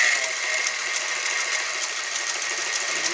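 A vintage Japanese-built Montgomery Wards sewing machine stitches two layers of denim on a long stitch, its motor and needle running in a steady, fast, close mechanical whir with rapid rhythmic ticking throughout.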